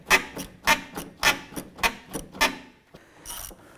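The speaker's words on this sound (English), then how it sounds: "we're going to use a couple extensions to get down inside there and loosen that bolt" A ratchet on a couple of extensions loosens a 10 mm headlight bolt deep in a 2011-2018 Ram 1500, making a close, crisp series of about eight quick clicking strokes.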